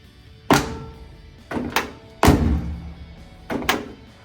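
Door of a 1966 Porsche 912 being closed, four solid thunks spaced over a few seconds, close by and fairly loud with quiet gaps between them.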